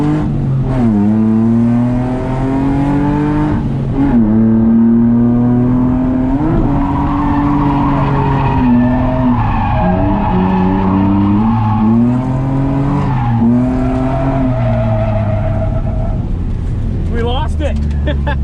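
A car at a drift event roars at high revs, its engine pitch sweeping up and down through repeated throttle blips and slides, loud and close, with tire noise under it and people talking over it.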